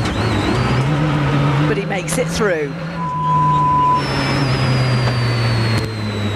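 A rally car with failed brakes descends through the Mexican mountains, relying only on its gears to slow down; its engine drones steadily and loudly throughout while a commentator talks over it.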